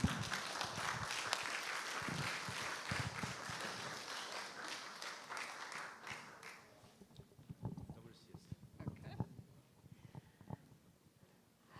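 An audience at a smart tourism panel session applauds a moderator and panelists, with dense steady clapping that fades out after about seven seconds, leaving scattered claps and murmurs.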